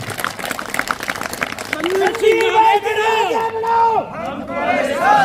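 Crowd at a village political rally in Kurhawata, Mahendergarh, giving a round of applause for former SDM Sandeep Singh, a dense patter of many hands with raised voices and shouts rising over it midway.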